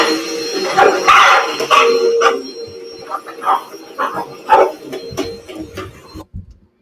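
A Boston Terrier barks, yips and howls repeatedly over a droning vacuum cleaner, the barking loud and close before the motor cuts off.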